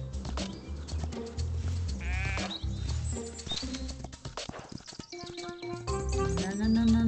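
Several sheep bleat in quick succession in the video game Star Equestrian, close and varied in pitch, with occasional clopping hoof sounds and some speech mixed in.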